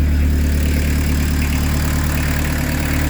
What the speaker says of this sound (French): Voilà comment ça tourne rond.